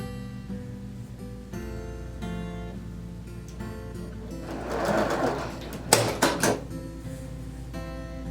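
A sewing machine runs at steady speed while stitching a quilt block, a continuous mechanical whir with a low motor hum, followed by a few sharp clacks and rattles as the block is pulled free near the end.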